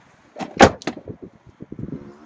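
A rear seat in a 2017 Chrysler Pacifica minivan is lifted and locked into position, giving a loud clunk followed by a series of smaller clicks and rattles up close, with no talking.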